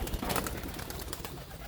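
Domestic pigeons coo in a coop, a close, continuous, breathy murmur that fills the short moment.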